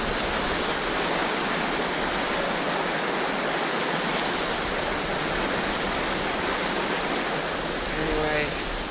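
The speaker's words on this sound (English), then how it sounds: "we're going over a very loud creek" A loud mountain creek on the Colorado Trail near the Ten Mile Range rushes in a dense, continuous roar, close and steady throughout.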